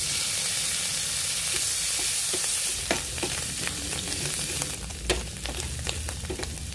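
Chicken and mushrooms sizzling steadily in a hot pan, with scraping stirs and clinks of a utensil ticking over the constant fry, close and fairly loud, with no talking.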